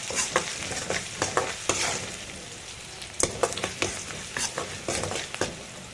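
Sliced onions with turmeric powder frying in a pan for potato palya, a soft continuous sizzle broken by repeated scraping stirs of a spatula at close range, no voices.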